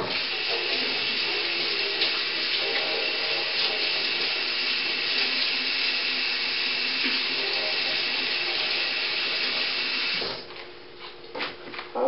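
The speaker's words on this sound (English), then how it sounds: "Let me go rinse this off." Kitchen tap water runs steadily and loudly while a utensil is rinsed during tofu banana pudding prep, then cuts off near the end, leaving a few clinks.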